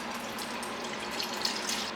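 Canned chicken poured from a jar into a bowl in a home kitchen, a steady wet splashy stream with a few soft plops and drips near the end, close and fairly quiet.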